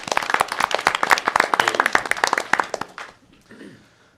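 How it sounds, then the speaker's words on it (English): Audience at a youth mental health panel breaks into loud, dense applause of sharp overlapping claps, near and steady for about three seconds before tapering off into quieter room noise. "So let's give her a round of applause."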